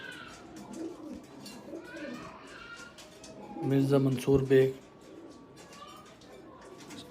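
Pigeons of a Karachi breeding line in a loft setup coo in a short burst midway, under steady talk from a man nearby.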